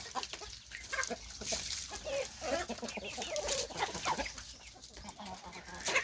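Several young hens of Thai game-chicken stock clucking and squawking continuously amid dense farmyard noise in a longan orchard, close and fairly loud throughout.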